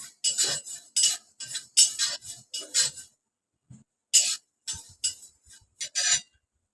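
Spices for vada dry-roasting in a pan, heard as repeated short scraping and clinking strokes of a metal spoon against the pan, coming in quick bursts with brief pauses, close and fairly loud.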